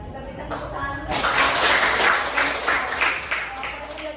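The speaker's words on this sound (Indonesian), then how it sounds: "kita berikan tepuk tangan dulu." Classroom applause during a teaching simulation, a dense burst of many hands clapping that starts after a brief voice and holds steady and fairly loud for several seconds.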